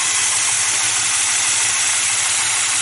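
A rebuilt car engine idles steadily and evenly, with a continuous mechanical hum and light ticking throughout, close by and unbroken.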